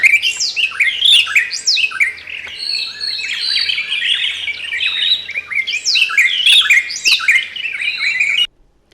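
Wild birds calling in Marsabit National Park, Kenya, a misty volcanic forest reserve: a dense, continuous chorus of bright chirps, trills and sharp whistled phrases from several birds, close and loud, ending abruptly.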